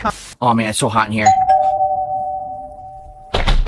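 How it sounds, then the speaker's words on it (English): A single sustained electronic doorbell tone rings steadily for about two seconds, with a person talking before it and again right after. "That's the doorbell, DoorDash!"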